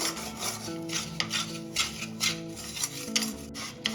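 A spoon scrapes and rubs steadily around a pan of thickening milk mixture cooked down for Mathura peda, with repeated rasping strokes in an even rhythm, close and moderately loud, with no talking.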